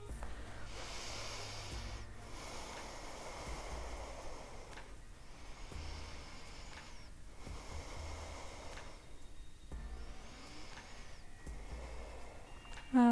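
Slow yoga breathing during an Ashtanga Level 1 practice, a long audible exhale held through a standing leg-lift pose; steady airy breaths repeat in a rhythmic cycle, close and soft, with no talking.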